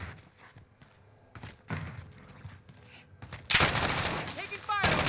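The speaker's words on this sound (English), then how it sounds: "Taking fire over here" Warzone battle royale gunfire with an LC10 in use: scattered thuds early, then a loud sustained burst of rapid shots in the second half, with a voice talking over it.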